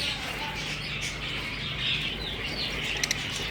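Caged pigeons on a hot summer afternoon give soft coos and brief wing flutters against a steady wash of outdoor background noise, with a couple of sharp chirps near the end.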